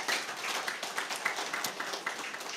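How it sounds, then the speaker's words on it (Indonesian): An audience claps at a theology school graduation ceremony in Bandung, producing a dense, fairly quiet spatter of hand claps that holds steady for a couple of seconds with no talking. "Boleh kita kasih tepuk tangan."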